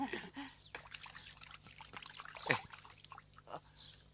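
Clean water trickles and pours in an indoor film scene, a soft uneven splashing stream running throughout with faint background sounds and hum.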